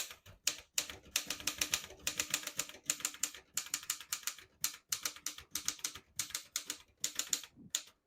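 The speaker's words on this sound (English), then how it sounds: "I'm just going to type like I normally type a sentence" Brisk, steady typing on a 1962 Erika Model 10 vintage portable typewriter, with crisp mechanical key strikes in rapid bursts, brief pauses between runs, and close, clear clatter throughout.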